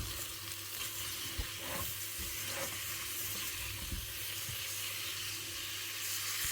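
Chicken roast sizzles in a pan while being mixed, a steady close hiss of frying with soft scraping and stirring sounds and occasional light knocks, alone without talk.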